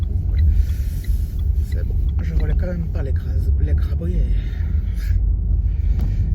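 A car rolls slowly through a residential area, its low engine rumble and road noise running steadily beneath someone talking over it.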